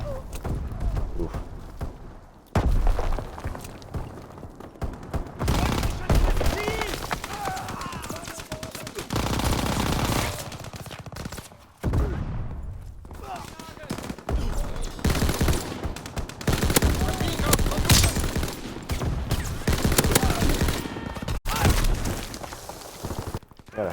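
Sustained light machine gun fire in Call of Duty: WWII, rapid loud bursts across long stretches with brief pauses, mixed with game battle noise.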